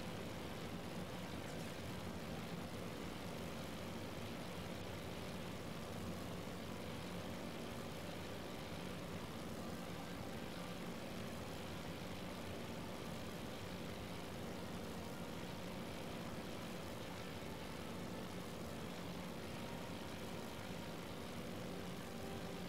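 Japanese Zero fighter planes fly in a Pacific carrier battle in Task Force Admiral, giving a steady, faint propeller-engine drone that stays level throughout with no voices.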